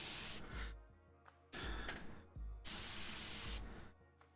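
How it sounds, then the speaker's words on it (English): Airbrush spraying yellow paint in three bursts of close, loud hissing air, each about a second long with short gaps, a possible clog making the spray slightly uneven. "My airbrush sounds like it's got a clog in it"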